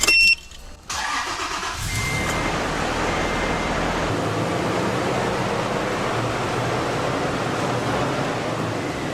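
A car engine in a mechanic's shop starts after a brief crank and settles into a steady, fairly loud idle that continues unbroken, with no talk over it.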